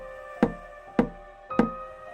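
Three hard knocks land on a door at an even pace, close by and fairly faint, with a quiet hum underneath and no voices.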